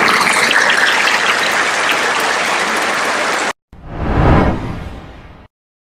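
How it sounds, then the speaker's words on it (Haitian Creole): An audience applauds loudly and densely for about three and a half seconds, then the clapping cuts off abruptly and a brief swelling whoosh follows. "Les applaudissements, continuez s'il vous plaît."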